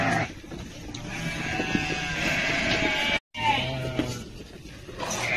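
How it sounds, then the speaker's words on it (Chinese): Lambs about half a month old bleat in a sheep pen while feeding on pellet feed: repeated wavering bleats, some near and some farther off, overlapping over a background of farmyard noise, with one brief gap of silence midway. "小娟的这小羊羔半个月左右了，都出来吃了"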